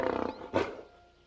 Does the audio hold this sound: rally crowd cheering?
no